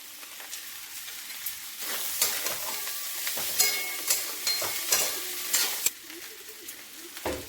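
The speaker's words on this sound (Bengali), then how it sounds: "এবার দিয়ে দিলাম ভেজে রাখা আলুগুলো।" Pre-fried potatoes tossed into a frying pan for a cauliflower singara filling and stirred, with repeated scraping strokes of a spatula over a continuous soft sizzle, close and fairly quiet.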